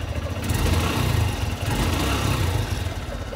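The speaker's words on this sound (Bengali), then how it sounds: "আর বাইকটার সাউন্ডটা এবার আপনাদেরকে একটু শোনাই দেই।" A used 150cc motorcycle's engine running close by, a steady mid-pitched idle with a slight rise and fall in revs, continuous and fairly loud with no speech.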